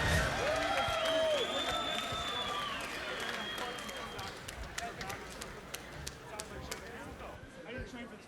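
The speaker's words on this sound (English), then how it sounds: "please, a round of applause for Andrew Sinister Small" Crowd applause and cheering at an MMA title fight as lightweight fighter Andrew Sinister Small is introduced, with sustained clapping and scattered sharp claps that thin out toward the end, and voices in the crowd.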